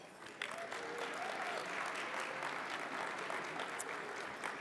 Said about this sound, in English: Please join us in giving a round of applause for their generous support